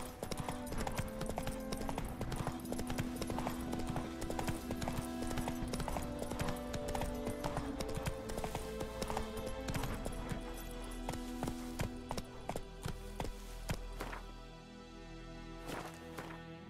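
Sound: horse Roach's hooves in video game The Witcher 3

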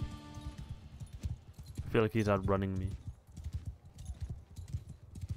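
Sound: horse galloping in the video game Bannerlord

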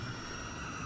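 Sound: helicopter in video game Spec Ops: The Line

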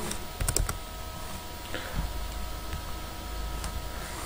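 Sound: typing on a computer keyboard

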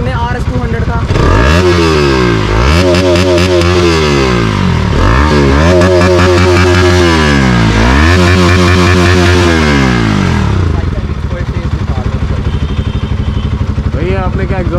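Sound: modified RS 200 motorcycle exhaust note

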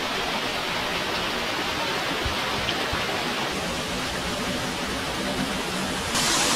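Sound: hot springs waterfall

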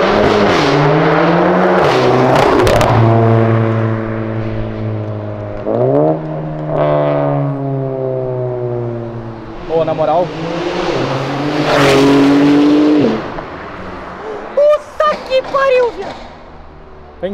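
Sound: Porsche off-road car driving past

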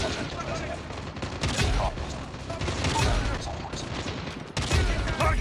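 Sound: gunfire in Call of Duty Mobile video game

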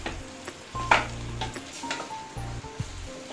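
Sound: boiled potato pieces frying and stirred in pan

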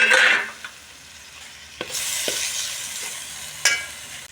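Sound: onion masala paste frying in oil for fish curry

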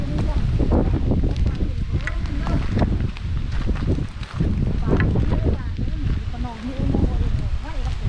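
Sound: strong dry wind blowing

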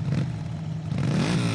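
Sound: motorcycle engine

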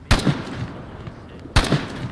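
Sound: gunfire in a video game

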